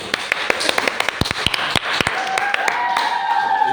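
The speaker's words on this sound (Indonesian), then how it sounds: "tepuk tangan buat kalian semua" A small group at an Indonesian high school student council (OSIS and MPK) talk gives a brief round of close, uneven handclaps, with voices murmuring underneath.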